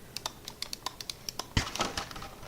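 Fingers type on a mechanical keyboard, producing crisp, close clicks in a quick irregular rhythm, with a brief louder clatter of several keys near the middle.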